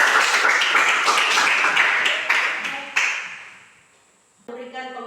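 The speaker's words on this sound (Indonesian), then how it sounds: "Tepuk tangan untuk kita semua." A classroom group claps together in a burst that swells and then fades over a few seconds before dying away, followed by a voice starting to speak.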